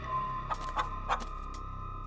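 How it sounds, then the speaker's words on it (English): Weak chicken clucks from a bush in the horror video game Scarlet Hollow, a few short, quiet clucks over a steady electronic hum, no talk. "a series of weak clucks call out from a nearby bush"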